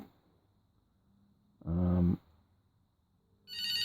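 A 1994 Nokia 2110i GSM900 brick mobile phone rings in a quiet room. A short, buzzy tone burst comes first, followed after a pause by a brighter, higher electronic ring.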